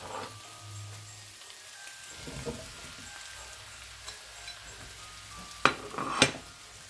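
Squash pieces tipped into a pan of rutabaga hash and meat, with soft steady frying sizzle throughout, a few clatters of food and utensil, and two sharp scraping knocks near the end.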